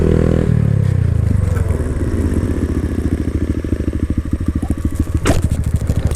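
A Honda Grom motorcycle revs hard while shifting through the gears in a wheelie, its engine note pulsing in rapid rhythmic firing and climbing between shifts, loud and close throughout.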